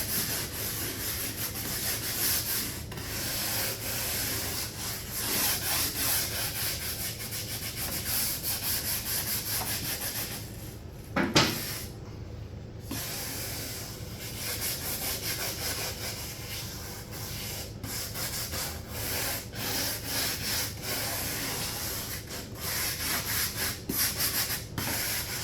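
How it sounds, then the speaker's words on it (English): A very soft wire brush scrubs a 1968 C10 door panel in steady, repeated raspy strokes, close and continuous, with a brief louder knock partway through. "So what we'll do is a little bit of scrubbing. I've got a very soft wire brush here."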